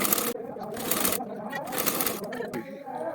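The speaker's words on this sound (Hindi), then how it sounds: "फिर कंधे की तरफ यहाँ से सिलाई लगानी है। सिलाई को हम डबल करके लगा लेंगे।" A sewing machine stitches a blouse shoulder seam in close, steady bursts of mechanical whirring, with a voice talking over it throughout.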